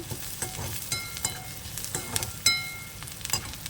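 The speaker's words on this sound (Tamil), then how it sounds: "வெங்காயம் வதங்கிடுச்சுங்க" Sliced onions sauté in a pan for a bitter gourd fry, a soft sizzle broken by intermittent scraping and stirring clicks, fairly quiet and close with no voices.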